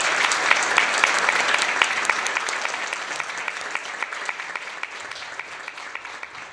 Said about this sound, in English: Please join me in giving a round of applause to all of our graduates and celebrating their accomplishments.